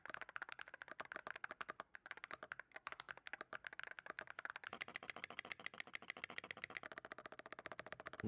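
Rapid, steady typing on a $200 Hall Effect keyboard, dense clacking keystrokes close up with a few brief pauses and no talking.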